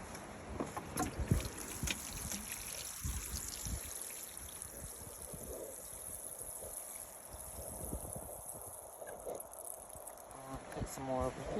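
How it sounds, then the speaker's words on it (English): Water splashes and trickles steadily from a hose or can onto garden soil nearby, with broadband wash and occasional louder gushes, no talking. "Let's put some more water over here."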